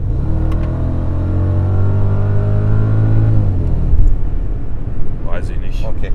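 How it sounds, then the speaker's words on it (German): Mercedes CL 55 AMG idling with a steady, low exhaust drone and a slight rattle in the exhaust, close and continuous, easing off midway before faint movement noises near the end. "Hörst du dieses leichte Rasseln im Auspuff?"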